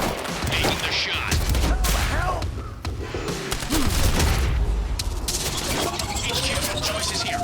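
Gunfire from a high-tech third-person shooter game, with a dense burst of shots and booming impacts filling the clip in the near field against a busy game soundscape.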